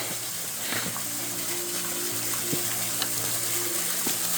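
A small mini waterfall beside a hiking trail spills steadily, a soft, even hiss of running water heard at a modest distance, with a few faint tonal sounds over it and no talk.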